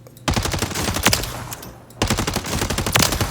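Rapid automatic gunfire from a weapon fitted without a compensator in Warzone, dense close bursts of shots with a brief pause near the middle before the firing resumes.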